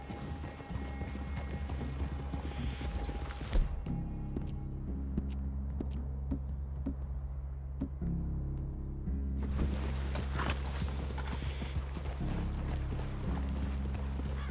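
Horses walk along with steady clip-clopping hooves in Red Dead Redemption 2, a continuous rhythmic plodding under a low ambient hum, with no talk over it.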